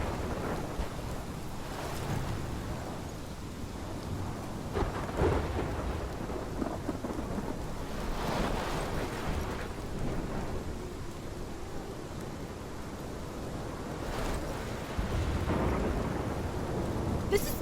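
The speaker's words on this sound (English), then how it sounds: "This is my storm." Steady heavy rain pours throughout while rolling thunder rumbles repeatedly in several swelling waves, fairly loud and continuous with no voices.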